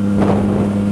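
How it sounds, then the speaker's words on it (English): Wind buffeting the rider on a Yamaha MT-09 naked motorcycle, a loud, steady rushing roar with the engine's low hum underneath, heard for under a second. "The wind doesn't really bother me at all because obviously riding a naked bike"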